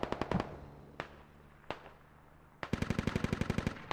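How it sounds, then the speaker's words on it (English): Bursts of machine gun fire in a video game set around Arctic outposts on rocky ground, with a rapid volley, a few isolated single shots, then a long sustained loud burst of evenly spaced rounds. "Machine gun, machine gun."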